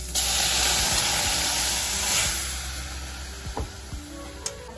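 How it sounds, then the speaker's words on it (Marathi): Moth beans (matki) fry in a pan for misal with a close, even hiss that is loudest at first and then eases, broken near the end by a few sharp clicks and taps. "आता आपण मटकी छान फ्राय करून घेऊया"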